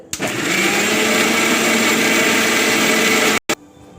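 A loud, steady high-pitched whir of an electric mixer grinder grinding coriander chutney, running continuously, cutting out briefly near the end before restarting.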